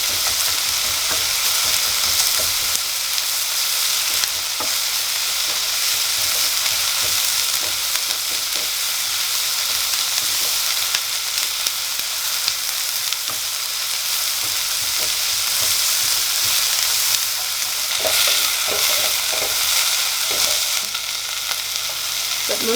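Garlic and onion sizzle steadily as they fry in a beaten egg mixture in a pan, a loud, continuous crackle with occasional stirring scrapes and no talking.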